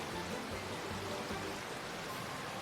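Steady rushing water of a river stream at a farm, a continuous broadband wash with no breaks, moderately close and alone.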